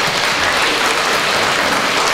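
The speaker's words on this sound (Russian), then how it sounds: "Аплодисменты!" An audience at a journalism award ceremony applauds, dense and steady clapping that fills the whole moment without pause.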